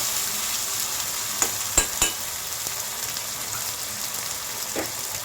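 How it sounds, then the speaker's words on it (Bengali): Garlic and green chili paste frying in a pan while being stirred, with a steady close sizzle and a few sharp spatula scrapes and taps against the pan. "রসুন কাঁচা লঙ্কা বাটা দিয়ে ভালো করে কাঁচা ভাবটা যতক্ষণ না কাঁচা গন্ধটা চলে যাবে ততক্ষণ এরকম একটু নাড়া দিতে থাকবো।"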